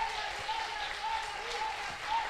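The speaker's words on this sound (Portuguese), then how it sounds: "Aplauda o nome do Senhor" Applause from a church congregation, a steady broadband wash of clapping at moderate level held evenly throughout, with a faint sustained tone running underneath.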